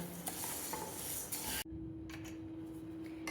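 Grains for ghee-jaggery sunnundalu are being dry-roasted and stirred in a wide pan over a low flame. Steady, close scraping and light rattling of stirring run throughout with no talk.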